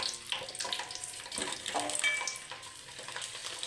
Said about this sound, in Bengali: এই যে এখন দিয়ে দিব রসুন আমি